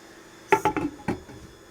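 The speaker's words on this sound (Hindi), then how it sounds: "अब इसको हम ढक के पकाएंगे 5 मिनट के लिए" A lid set onto a cooking pot of keema and potatoes gives a short cluster of metallic clinks and knocks, close and fairly loud, over a quiet kitchen.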